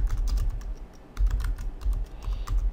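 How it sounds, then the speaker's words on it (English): Typing on a computer keyboard while entering a search in Windows 10, quick irregular bursts of close key clicks with brief pauses, no speech. "type in disk cleanup"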